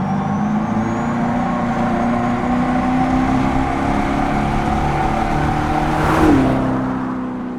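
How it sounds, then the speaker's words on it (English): A Dodge Charger Daytona EV plays its synthetic V8-like exhaust note, a steady loud droning rumble with a whining tone that swells briefly near the end before cutting off. "That sounds like a V8 engine, albeit one in a racing sim or video game"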